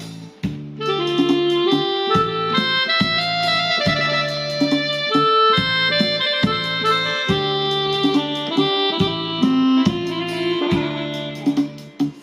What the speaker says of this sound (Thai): เสียงแซกโซโฟนนะครับ